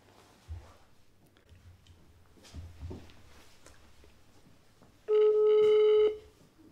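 Faint room noise and a few soft bumps, then a single loud electronic phone ring tone lasting about a second near the end.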